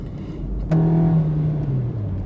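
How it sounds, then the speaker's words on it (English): A Suzuki Baleno's engine note kicks in suddenly under hard acceleration and holds a steady low drone that slowly drops in pitch, close and fairly loud over road noise. "it's making noise because I was pressing the accelerator very roughly"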